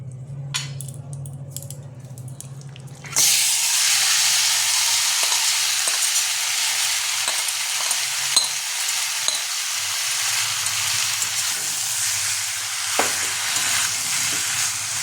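Marinated mutton hits a hot, thick iron wok and erupts into loud, steady sizzling frying that runs continuously, with a few scrapes and clinks over it; a quieter low hum comes before the meat goes in.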